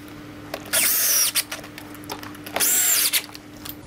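A power drill drives screws into a wooden centering block for a newel post install, two whining bursts of motor spin about a second each, separated by short taps and quiet.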